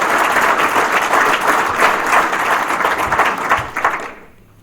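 A crowd at a town-hall meeting on health care reform breaks into loud, sustained applause and clapping that holds steady for several seconds, then fades out quickly at the end.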